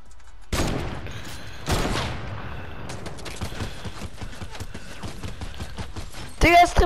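Sniper rifle gunfire in the video game Fortnite, two sharp loud reports about a second apart, followed by busier clattering game sounds and a burst of noise near the end, with speech around.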